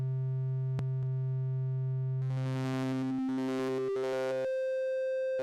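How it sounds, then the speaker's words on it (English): Arturia PolyBrute synthesizer with VCO1 hard-synced to VCO2: a sustained bass note, then bright, harsh sweeping overtones that jump and shift in pitch as the sync timbre changes. "VCO1 also features a continuous hard sync with VCO2 as the source."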